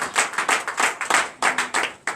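Clapping from a congregation at a night prayer service of deliverance and prophecy comes in sharp, rhythmic bursts of several hands, loud and close, with short gaps between volleys.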